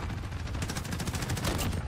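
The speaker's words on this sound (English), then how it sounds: "My VTOL's gotta go off right now, hopefully." A Call of Duty VTOL killstreak fires a rapid, steady stream of repeated shots, sustained and fairly soft throughout, with no talk over it.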